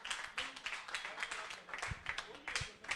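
Audience applause for a presenting group at a digital humanities summer school session in Lagos, a dense, steady patter of many hands clapping at moderate volume throughout, with some low bumps underneath.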